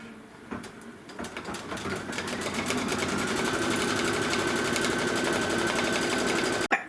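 An embroidery machine stitches a placement line on fabric, with a steady, fast mechanical rattle that builds over the first seconds and then holds evenly, close and loud, before ending in a sharp click.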